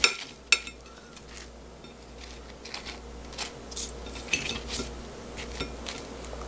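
Dishes and cutlery clink and scrape while bumpy mini hot dogs are plated in a home kitchen, a few sharp knocks at the start followed by lighter scattered clatter, close and without talk.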